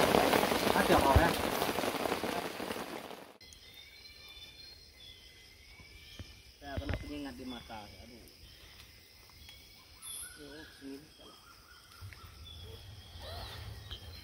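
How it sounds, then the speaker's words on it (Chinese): Heavy rain pours down at night during a hike to Telang Usan, a loud dense hiss for the first few seconds before it cuts to a quieter backdrop of insect chirps and a brief voice. "所以下大雨，一个晚上就是这样过"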